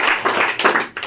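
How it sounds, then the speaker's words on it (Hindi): A brief burst of hand clapping from a crowd, a quick patter of sharp claps lasting about a second. "ताली बजाओ भाई"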